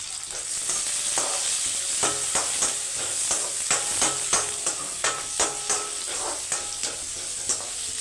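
Tomato sautés in a sizzling pan while a spatula scrapes and taps in a steady rhythm over the constant hiss of frying.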